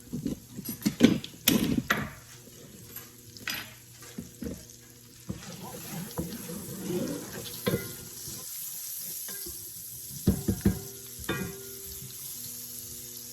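Onions sautéing in a pan for shrimp Oscar sauce, with a steady sizzle under clattering utensil stirs and scrapes, close and fairly loud, with occasional bursts of stirring.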